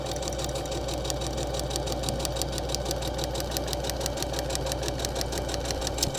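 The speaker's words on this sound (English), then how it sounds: "we are going to stitch right down that line" Sewing machine running steadily as it stitches down a marked line in foundation paper piecing for a quilt block, a continuous rapid mechanical whir with fast regular needle ticks, close and alone without talk.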